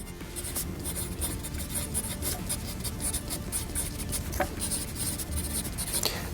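Pen scratching steadily across paper as a number and a circle are written out, a close, continuous dry rasp of strokes with small pauses between marks.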